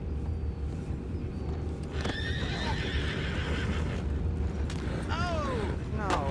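Horses neighing in a video game's outdoor camp scene: two or three whinnies rise near the end over a constant low rumble of ambient noise, with faint hoof clops and muffled background activity.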